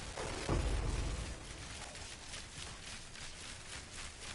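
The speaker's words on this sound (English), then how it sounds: "Come on, I want to hear the cannon." A single deep cannon boom in Path of Exile 2 bursts out early, then fades into a steady rumbling background noise with no voices.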